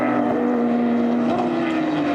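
Porsche GT3 Cup race car at Barber Motorsports Park under smooth throttle, a loud sustained engine drone holding a steady pitch with a slight rise and fall.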